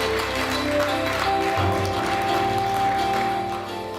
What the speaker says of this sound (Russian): Ваши аплодисменты участникам первого международного конкурса исполнителей горлового пения «Хай Мюррей».